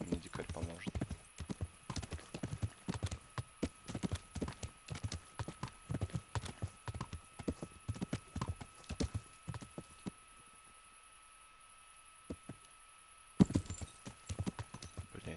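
Horse hooves clip-clop steadily at a walking pace in the medieval game Kingdom Come: Deliverance, a continuous run of close, moderately loud steps that pauses briefly near the end before resuming.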